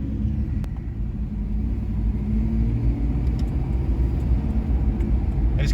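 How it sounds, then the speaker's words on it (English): A lifted Ford Explorer with a V8 and manual transmission cruising down the road, its exhaust giving a steady, deep rumble close to the microphone throughout, with no sharp revs. "I just can't get over that exhaust sound. It sounds so good."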